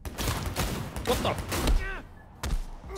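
Gunfire in Cyberpunk 2077 comes at the player in several sharp bursts and thumps, close and punchy, with a person talking in between.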